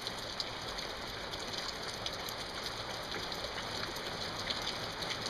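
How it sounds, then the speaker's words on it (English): Steady rain pours down in a dense, even hiss of countless drops pattering on surfaces, continuous and close with no pauses and no voices. "The rain's picking up."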